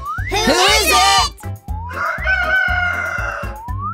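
A cartoon rooster in a children's farm game gives two loud, stylized cock-a-doodle-doo crows over a bouncy rhythmic music track, with springy boing effects in between.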